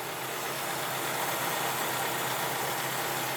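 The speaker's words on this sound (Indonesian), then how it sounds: "Nih suara mesin nyala, suaranya halus." A 1995 Daihatsu Feroza engine idles smoothly, heard from the front by the hood as a steady, even, quiet hum with no voices.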